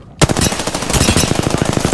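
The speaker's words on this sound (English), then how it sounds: "They're firing on me." Rapid automatic gunfire in the shooter game Apex Legends, a steady burst of evenly spaced, loud shots that starts abruptly and rattles on without pause.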